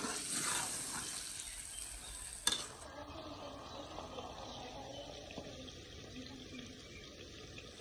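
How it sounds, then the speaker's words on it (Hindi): A glass of water goes into a pot of sizzling meat for achar gosht in a Punjabi village kitchen: a close, rushing splash lasts a couple of seconds with a sharp clink, then settles into a quieter, softer simmer. "तो यहाँ पे हम 1 गिलास इसमें पानी डाल देंगे ताकि ये अच्छी तरह से पक जाए।"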